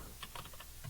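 Keys clicking on a computer keyboard in a short burst of several taps, faint and close, over a steady background hum.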